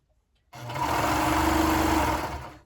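A sewing machine runs in one steady continuous burst, stitching a folded fabric hem band with its short edges matched right sides together. The motor whirs loud and close for about two seconds with no pauses, then stops.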